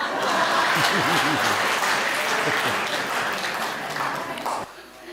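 Audience at a Hindi comedy and poetry show clapping loudly with cheering voices and some laughter mixed in, tapering off and cutting out near the end.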